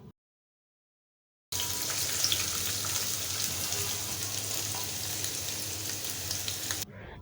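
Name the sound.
onion frying in a pan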